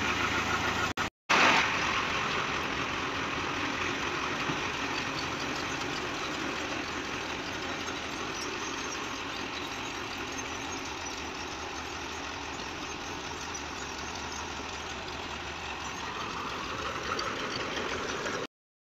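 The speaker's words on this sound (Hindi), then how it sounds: "ट्रैक्टर स्टार्ट हो गया है" A tractor engine idles and runs steadily with a low, continuous rumble, close by and unbroken after a brief cut near the start.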